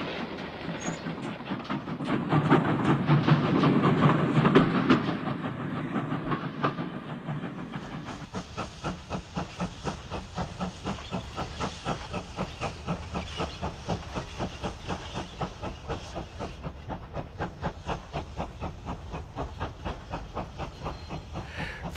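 A steam locomotive pulling a local train service hisses and chuffs, swelling louder as it nears, then settles into a long, steady, rapid clickety-clack of wheels over rail joints.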